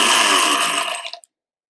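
A mixer grinder whirs loudly at high speed grinding roasted ingredients for methi laddoos, then winds down and cuts off abruptly, leaving silence.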